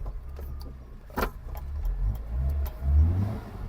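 An old car engine with idling issues runs unevenly, with low rumbles that surge and fade, a couple of short revs, and sharp clicks and clatter nearby.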